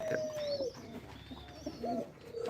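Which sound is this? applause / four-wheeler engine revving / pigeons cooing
pigeons cooing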